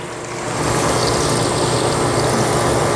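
A garden hose sprays water at medium pressure to rinse an HVAC condenser unit beside a house, making a steady, close rushing hiss that starts after a brief quieter moment and holds evenly, with no talking.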